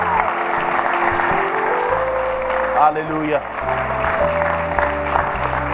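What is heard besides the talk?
church congregation applauding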